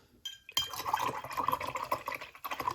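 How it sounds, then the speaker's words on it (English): A paintbrush being rinsed in a water jar, a short burst of swishing, sloshing water with light clinks against the glass, close and fairly quiet. "I'm going to rinse my brush again."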